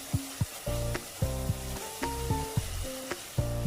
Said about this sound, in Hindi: अब हम ऐड करेंगे आंवला जो हमने भिगोकर रखे हुए थे। अब हम इनको थोड़ी देर के लिए भून लेंगे।